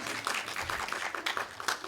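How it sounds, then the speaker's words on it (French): An audience at an evening debate on climate, jobs and social issues claps, giving a short, fairly dense patter of applause at moderate to low volume, slightly distant, with a voice briefly audible underneath. "Je vous laisse applaudir."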